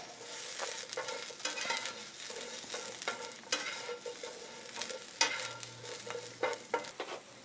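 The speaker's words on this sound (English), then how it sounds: "Then check your tempeh, stirring occasionally." Tempeh stir-fries in oil in a pan, a soft, steady sizzle broken by irregular scraping and clatter as it is stirred, fairly quiet and close, with no one speaking.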